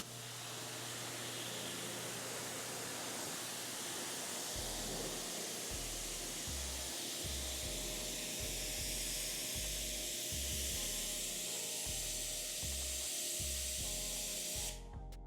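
Steady hiss of a sprayer misting a pre-spray onto coated car paint, continuous and fairly close, with a faint low pulsing underneath and no voices.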